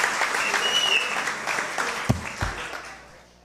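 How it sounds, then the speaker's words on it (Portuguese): An audience applauds at a legislative award ceremony, steady clapping that thins out and fades over a few seconds, with a few louder single claps near the end. "Recebo os aplausos do Poder Legislativo"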